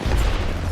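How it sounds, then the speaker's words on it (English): A grenade explodes in the shooter video game Apex Legends, a loud, deep boom that rumbles heavily throughout. "Look out, grenade."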